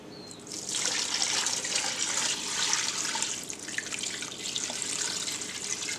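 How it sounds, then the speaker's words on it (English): Water pours steadily into a stockpot holding chicken bones and parsley for homemade bone broth, a continuous close splashing gush that starts after a brief quieter moment and runs to the end. "Now let's add some water."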